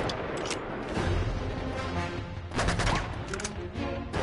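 Gunfire in the video game Uncharted 2: Among Thieves, bursts of dense rapid shots crackling over a low rumble, with a heavier volley near the end, fairly quiet overall.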